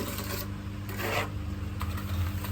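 A trowel spreads cement render over mesh on block work, giving soft, rasping swipes against a steady background hum, with no voices.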